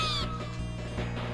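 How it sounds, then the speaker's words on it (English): Bat chirping in the Neo-Geo arcade game Spin Master, a short burst of high descending chirps at the start over a steady buzzing game music drone. "Why is it chirping? That's what bats do."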